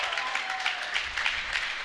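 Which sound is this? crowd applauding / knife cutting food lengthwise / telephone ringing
crowd applauding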